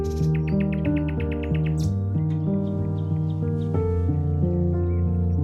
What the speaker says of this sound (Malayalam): ശ്രദ്ധിച്ച് കേട്ടാൽ നിങ്ങൾക്ക് കുറേ കിളികളുടെ ഒക്കെ സൗണ്ട് കേൾക്കാട്ടോ.